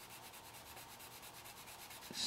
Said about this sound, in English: slightly sanding on there.